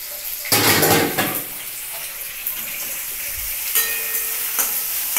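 Chopped tomato and onions frying in a pan, with a burst of clattering pot and utensil noise near the start and later scrapes and knocks over a low, steady sizzle.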